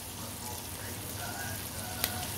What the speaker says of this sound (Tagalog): gigisa muna natin yung bawang at sibuyas